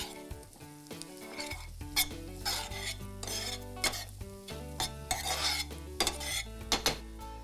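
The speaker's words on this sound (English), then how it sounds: "Give this a nice stir." Kashmiri chili powder and paprika stirred in a hot pan, with a loud scraping spoon and constant frying sizzle, punctuated by sharp clanks against the pan while background music plays.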